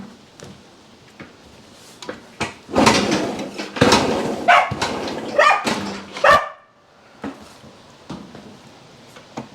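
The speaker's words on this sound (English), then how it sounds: "Dog doesn't like it." A dog barks repeatedly and loudly in close range during a cluster of several seconds, near an old Yamaha CT1 motorcycle being kicked over, with some clattering and knocks around the barks.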